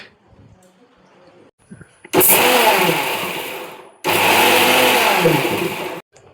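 A kitchen mixer grinder in a Kerala home briefly grinds mustard seeds into a paste, roaring loudly in two bursts of about two seconds each with a short pause between.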